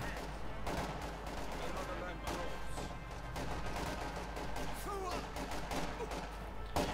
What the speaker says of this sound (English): Panzer IV taking a hit there from the Pack 40.